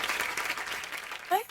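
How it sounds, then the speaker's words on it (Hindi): Studio audience applause on a comedy talk show welcoming actors as guests, steady broadband clapping throughout with a brief voice rising near the end. "आप सबकी जोरदार तालियों के बीच स्वागत करना चाहूंगा वेरी गॉर्जियस श्रुति हसन और राजकुमार राव"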